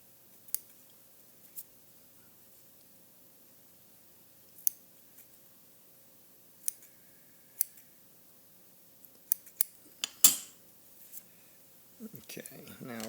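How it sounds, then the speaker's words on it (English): Curved scissors trimming fly-tying material for a brush-tied minnow, heard as a handful of sharp, isolated snips spread across the span, close and quiet, with rustling handling toward the end. "I use curved scissors, and I'll grab it back in the back here"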